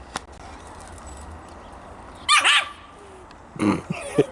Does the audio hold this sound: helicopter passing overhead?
no